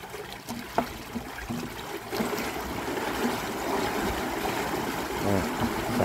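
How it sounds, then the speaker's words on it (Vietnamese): Water released through a sluice gate at a square fish pond, a steady rushing trickle and flow at moderate distance, continuous and fairly quiet throughout. "Xả nước ra các bạn."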